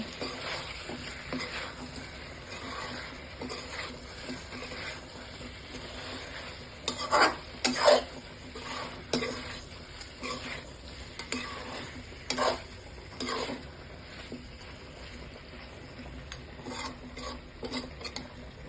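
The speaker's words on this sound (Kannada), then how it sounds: "ಈಗ ನಾನು ಗೋಡಂಬಿ ಪೌಡ್ರ್ ಮಾಡ್ಕೊಂಡಿದ್ದೀನಿ, ಹಾಕ್ಬಿಡ್ತೀನಿ. ಚೆನ್ನಾಗಿ ಮಿಕ್ಸ್ ಮಾಡ್ಕೊಳ್ಳೋಣ." A spoon scrapes and clatters in a pan while cashew powder is stirred into pepper chicken. The scrapes come in irregular strokes over a soft, low sizzle, with no talking.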